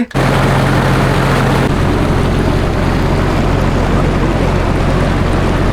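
Steady low engine drone of a boat on Lake Titicaca heading to the Uros Islands, Peru, with a broad wash of water and wind noise, constant and fairly loud throughout, no voices.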